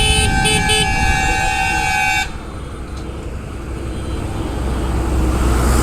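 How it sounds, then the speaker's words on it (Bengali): Trucks on the road near Mourigram, Howrah, blast loud air horns for about two seconds, then a steady traffic rumble with wind noise carries on behind them. "আর দেখো কিভাবে ট্রাক আসছে।"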